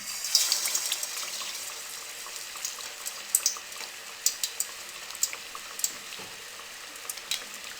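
A piece of chicken dropped into about three cups of hot cooking oil fries with a steady bright sizzle and scattered crackling pops, close up and with no voices.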